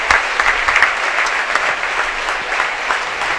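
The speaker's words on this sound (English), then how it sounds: "going to get a standing ovation from the crowd here at Marvel Park" Crowd at a high school football game gives a standing ovation as an injured player is wheeled off, with dense, sustained applause and a few scattered louder claps filling the stands.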